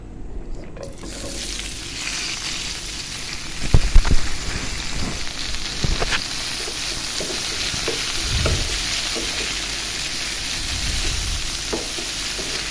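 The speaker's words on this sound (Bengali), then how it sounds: "করলাটা ভাজি করে নেব" Bitter gourd frying in a pan gives a steady, rain-like sizzle with occasional sharper crackles and stirring knocks, close and continuous with no talk.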